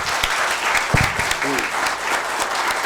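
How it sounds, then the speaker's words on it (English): An audience at a marketing event gives a round of applause for three experts, loud continuous clapping with a brief voice cutting in partway through. "Can we give a big round of applause to all the three experts?"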